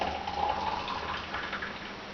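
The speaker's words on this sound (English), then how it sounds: "So I'll be pouring it into a clean jar" Thick homemade tomato sauce poured into a clean jar, a steady soft liquid pour with a faint trickling hiss running throughout, close and fairly quiet with no voices.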